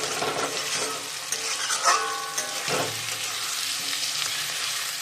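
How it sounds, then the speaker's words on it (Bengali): Potatoes and spices frying in a pan, a steady close sizzle with a few stirring scrapes and a brief clatter of utensil against the pan. "এটাকে সুন্দর করে এখন ফ্রাই করি।"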